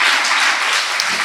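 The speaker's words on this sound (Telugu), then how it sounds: "సంతోషంగా ఉంటే చప్పట్లు కూడా దేవుని స్తోత్రం చేద్దాం" A church congregation claps together in praise during a prayer service, a dense, steady wash of hand claps filling the room at close range with no voices over it.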